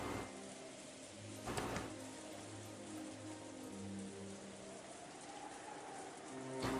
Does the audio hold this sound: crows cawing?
no